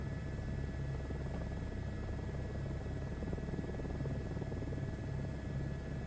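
Helicopter engine in Microsoft Flight Simulator 2024 during a search and rescue flight: a loud, steady turbine drone with a rapid rotor chop, continuous and close throughout, with no talking.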